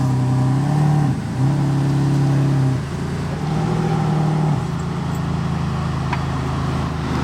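A sports car engine idling and revving with its exhaust valves closed, a close, fairly loud low hum that swells in several steady pitched surges with brief dips between, no talk.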